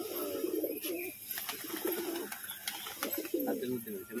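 Pigeon with light-coloured plumage and black edging, cooing in repeated low throaty bursts at close range, with faint chirps and background noise between calls.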